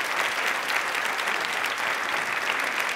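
A studio audience on a televised quiz show claps loudly and continuously, a thick, even roar of many hands sustained for three seconds.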